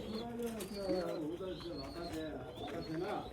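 Pigeons coo in a low, repeating warble with overlapping bubbling calls, close and steady throughout, while people talk in the background.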